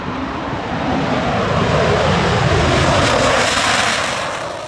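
F-35 fighter jets pass overhead near a playground, a loud continuous broadband roar that swells and slowly fades over several seconds, with no voices.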